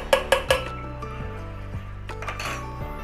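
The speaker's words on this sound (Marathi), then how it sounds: "अगदी व्यवस्थित मिक्स करून घेऊ सगळं" A spoon clinks sharply against a metal pot a few times, followed by quieter scraping as a mutton marinade of kala masala is mixed, with faint music behind.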